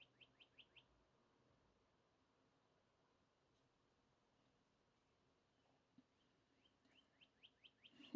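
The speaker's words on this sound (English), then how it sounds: "That bird, you guys hear that bird sound going off again" An outdoor bird call heard indoors, a quick series of four or five high chirps, then several seconds of near silence before another similar run of chirps, faint and thin, with no talk.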